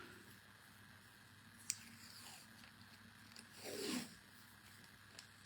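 A strip of tape is pulled off a roll during candy cane ornament crafting, giving one brief rising rip in the middle of a quiet stretch, with a few small clicks around it.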